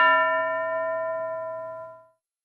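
A single bell struck once as a signal during a Marathi classroom quiz exercise, ringing out clear and loud and then decaying smoothly over about two seconds, with no talking.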